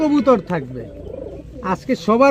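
A pair of green-necked teddy pigeons coo in low, rolling phrases at close range, with short bursts at the start and end and a softer murmur between.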